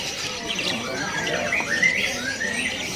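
Parakeets at a bird market kiosk squawk in sharp, repeated bursts amid a busy background murmur.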